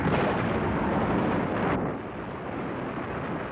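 A gunpowder store explosion: a deep, roaring blast rumbles with dense noise that drops off and settles into a lingering roar, loud and without voices.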